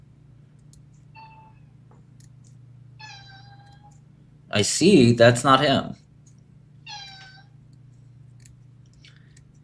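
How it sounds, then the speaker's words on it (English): A cat meows several times in short, tonal calls, a couple before and one after a burst of close male speech, over a low steady hum in a quiet room. "Stop meowing at me."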